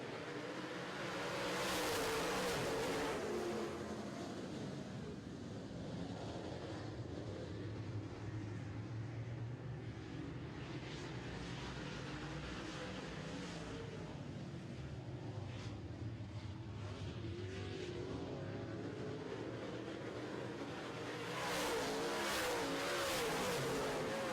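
Late model race cars roar off at the start of a heat race, a dense, sustained engine drone that swells at the start and end, distant and fairly faint, with no talk.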